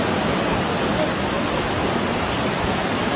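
Floodwater rushes over a washed-out road during flooding in Hebei, China: a loud, constant broadband roar with no breaks, close and overwhelming.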